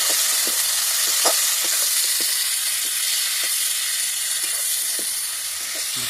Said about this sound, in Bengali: টমেটো আর ক্যাপসিকামটা দিয়ে দিলাম দিয়ে আমি একটু ভালো করে ভেজে নেব